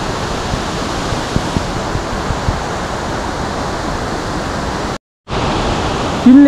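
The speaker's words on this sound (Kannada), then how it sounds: "ಇದು ಎಡಂಪಲ್ಲಿ ವಾಟರ್ಫಾಲ್ಸ್ ಎಕ್ಸಾಕ್ಟಾಗಿ" Edampalli waterfall pours in a steady, loud broadband rush of falling water, heard alone and unbroken apart from a brief cut near the end.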